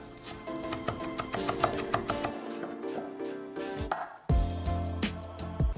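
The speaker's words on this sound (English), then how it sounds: "Now just slice up some garlic thinly. And then mince up some fresh parsley." A knife taps rapidly and repeatedly on a cutting board, slicing garlic thinly and mincing fresh parsley, with crisp close chops in uneven bursts and a louder run of strokes near the end.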